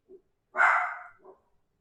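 A dog barks once loudly and close, framed by a couple of softer short yips before and after, in an otherwise quiet room.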